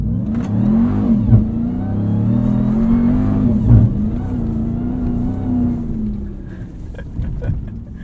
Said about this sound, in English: All you hear is supercharger.